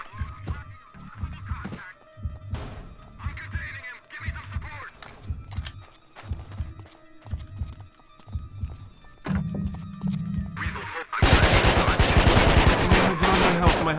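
Assault rifle gunfire in the video game Manhunt, a series of sharp, evenly spaced shots followed by a dense, loud, continuous burst of fire toward the end.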